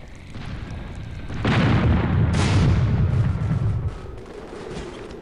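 Airship cannons boom in a heavy sustained volley during an Air Buccaneers battle, with loud rumbling blasts that overlap for a couple of seconds and then fade into a low background drone.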